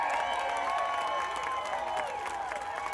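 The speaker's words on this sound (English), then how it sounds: "he received a standing ovation and was met with massive cheers and applause" A rally crowd in Florida cheers and applauds for Barron Trump, a dense wash of clapping and shouting heard from a distance, steady and fairly faint for a few seconds.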